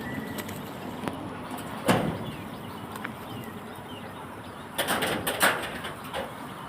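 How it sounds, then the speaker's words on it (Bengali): Birds gather around scattered feed, with soft cooing and brief bursts of wing flapping over a quiet outdoor background, several fluttering clusters near the end. "দেখো কত পাখি চলে এসেছে খাবার দিচ্ছি"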